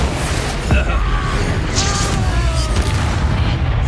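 A loud fiery explosive blast from the Confringo spell in Hogwarts Legacy booms once with a rumbling tail, amid ongoing combat noise.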